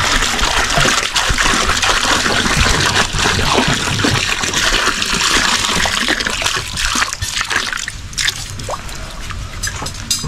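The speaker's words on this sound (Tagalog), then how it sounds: "naglalagay na ng tubig si Nunoy" Water pours continuously into a container, a loud, close splashing and gurgling stream that runs steadily for about ten seconds before easing slightly, with no one speaking.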